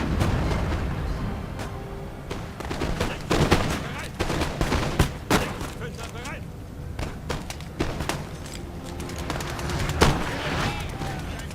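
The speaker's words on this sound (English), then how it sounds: "A few shots from my skirmishers, and they're off." Scattered musket shots crack from skirmishers in Napoleon: Total War, several sharp reports at irregular intervals over a busy battlefield din with voices murmuring underneath.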